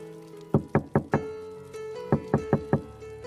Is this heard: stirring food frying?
no